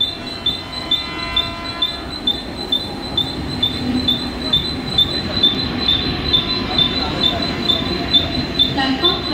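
A Mumbai local train stands at or pulls into a station platform, with a steady rumble, periodic wheel clicks and a high metallic tone running throughout, while other noise from the busy station mixes in around it.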